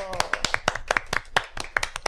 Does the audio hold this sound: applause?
yes